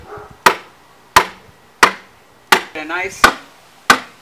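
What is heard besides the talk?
rebar being driven into the ground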